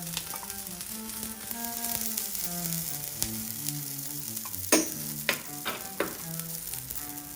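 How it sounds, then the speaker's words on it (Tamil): Ragi adai cooks in oil on a dosa griddle with a steady, close sizzle, broken midway by a few sharp clinks and scrapes; faint background music runs underneath. "தோசைக்கல்ல அடை வெந்துக்கிட்டு இருக்குது"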